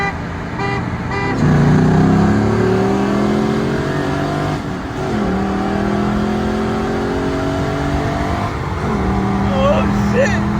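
A 5th generation Chevrolet Camaro accelerating hard through the gears, its engine note rising in repeated sweeps with shift breaks, loud and close from inside the car, with people talking over it.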